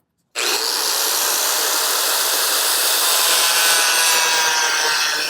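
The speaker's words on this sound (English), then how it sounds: "And then we'll cut that with the cutoff wheel." A cutoff wheel grinds through a steel inner fender in one continuous, loud, close high-pitched screech that starts abruptly and holds steady.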